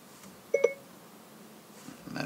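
In a Volkswagen with App Connect running Apple CarPlay, the Siri voice command activation tone sounds as a short, quiet two-note chime inside the car, followed by faint cabin noise.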